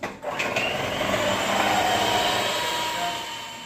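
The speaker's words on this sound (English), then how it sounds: "next thing we're going to do is blend this all together" An electric mixer blends butter, peanut butter and sugar for cookie dough, giving a steady, close whirring drone that holds evenly for a few seconds with no talking.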